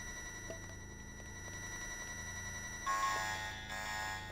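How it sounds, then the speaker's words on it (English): A faint alarm in the video game Deus Ex sounds as steady electronic tones over a low game hum, growing slightly louder and brighter partway through. "It's an alarm."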